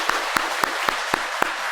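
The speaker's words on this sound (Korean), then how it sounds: "박수로 격려하겠습니다." A church congregation at a Sunday service applauds the choir, with a steady bed of clapping and a few loud, evenly spaced claps cutting through in a regular rhythm.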